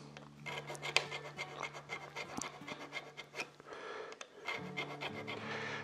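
A file rasps along the curved slot of a guitar nut, made in short, quiet, close scraping strokes that come in uneven bursts with brief pauses and no voices.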